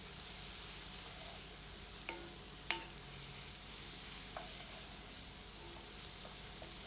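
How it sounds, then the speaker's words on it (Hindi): Onions frying in oil over medium heat for a Goan chicken vindaloo, a faint, steady sizzle with a few soft stirring clicks, no voices. "हीट को मीडियम पर रखते हैं और अनियन को फ्राई करके गोल्डन कर लेते हैं।"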